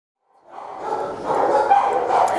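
Several dogs bark and yip at an animal shelter, a rising chorus of overlapping barks at moderate distance, continuous through the clip.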